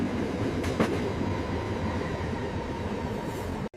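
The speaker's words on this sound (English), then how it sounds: "The train is moving now." A train rolling along with a steady, loud rumble of wheels on track, a couple of brief clacks near the start, continuous and close until an abrupt cutoff at the end.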